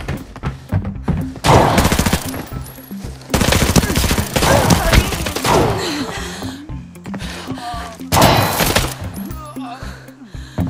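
Rapid bursts of automatic gunfire in the shooter video game Arena Breakout, loud and close, coming in several clusters with short pauses and a few single shots between.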